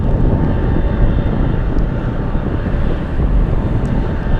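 F-16 Falcon fighter jets flying near Anchorage airport in gusty wind, a loud continuous low rumble and roar held steady throughout, with wind buffeting the microphone and no voices.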